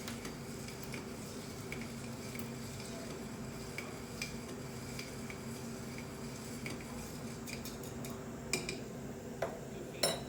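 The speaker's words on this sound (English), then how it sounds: "And then give it a good stir for about 10 seconds." A cocktail with ice is stirred in a glass for about ten seconds, producing a steady stream of light clinks and spoon scraping, close up with a few sharper knocks near the end, no talk.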